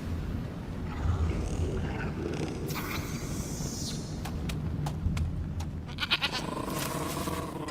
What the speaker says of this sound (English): Bringing in a nice goat.